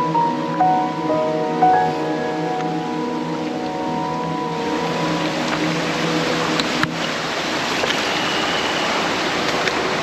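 Monsoon stream near Devkund waterfall in Tamhini Ghat, a steady broadband rush of flowing water with faint tonal sounds over it early on, constant and moderately loud, no voices.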